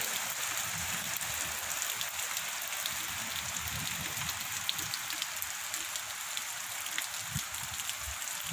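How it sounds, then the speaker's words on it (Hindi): Heavy, steady rain pours down on a village, a dense continuous hiss of drops hitting surfaces that holds evenly throughout without pause. "बहुत ज़्यादा तेज़ बारिश हो रही है"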